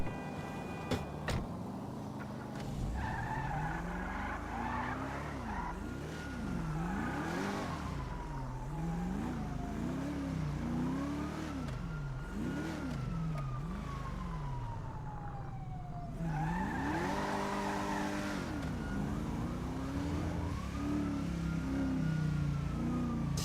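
Car driving through Los Santos in GTA 5, with an engine that revs and climbs through rising and falling gear sweeps over steady road rumble, plus a siren-like wail, continuous for the whole stretch.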